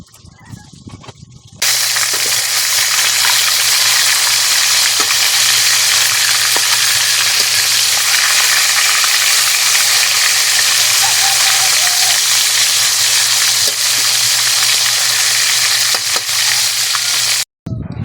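Loud, continuous sizzling and crackling of fresh fish frying in hot oil in a pan, steady for most of the clip after an abrupt start.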